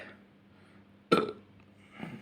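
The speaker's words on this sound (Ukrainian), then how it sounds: "Ну, не гази ці, типа відрижки." A single short, loud burp from a man stands out abruptly in a quiet room after tasting a multivitamin nectar drink, followed by faint background murmur.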